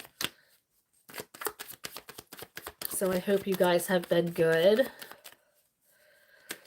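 Tarot cards being shuffled make a quick run of crisp, clicking riffles, followed by someone speaking to her audience over further soft card handling.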